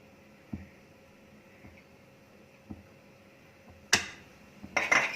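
A flat metal tawa is set onto a gas stove with a sharp metallic clank, followed by a burst of hissing noise near the end, over a quiet room with a few soft knocks earlier.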